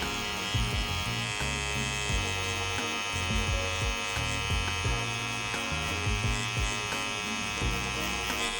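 Close and continuous, a tattoo machine with a Magnum needle hums and buzzes at a steady pitch while shading on skin, with slight rhythmic flutter throughout.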